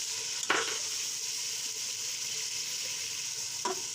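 Garlic, ginger, green chilli, fennel and coriander paste sizzles with chicken in a pan for a chicken pulao, a steady bright frying hiss throughout with two brief louder stirring scrapes near the start and end.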